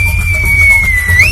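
A single sharp, steady whistle blast is held for a moment and then rises in pitch at the end, loud and close over a low background hum.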